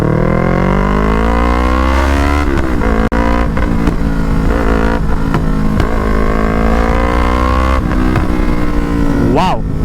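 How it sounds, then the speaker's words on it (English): Yamaha R3 motorcycle fitted with a full catless exhaust system revs hard at partial throttle, a loud, raspy, close-up roar rising and falling in repeated blips across ten seconds. "The bike sounds like this, a full catless system."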